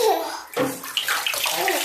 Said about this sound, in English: Alright, Brooke, enjoy your bath.